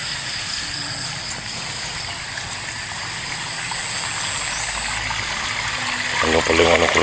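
Steady rushing water of a fast-flowing stream, a continuous broad hiss, with a faint voice speaking briefly near the end.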